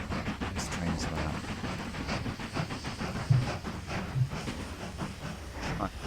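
A train running in the railway-building game Mashinky, a steady rumbling and hissing with rhythmic clacks, heard at moderate level under the game's background sound.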